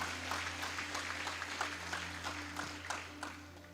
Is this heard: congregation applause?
yes